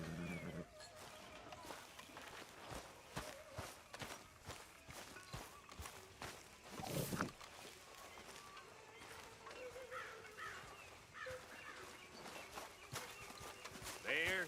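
Horse hooves clop at a steady walking pace while riding in Red Dead Redemption 2, fairly soft beneath conversation between characters, with faint ambient game sound around them.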